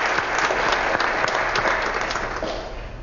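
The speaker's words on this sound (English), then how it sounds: "So first, my applause to you all." A large audience applauds steadily, a dense wash of many hands clapping at once, sustained and fairly loud throughout.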